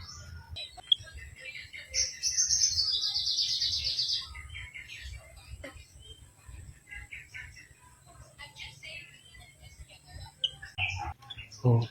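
A bird near its nest gives a sustained twittering call, then scattered short chirps, close by amid soft rustling and quiet voices.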